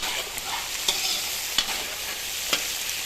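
Chicken pieces fry in a pan for curry, giving a steady hiss of sizzling oil with a few sharp stirring clicks, close and continuous with no one talking.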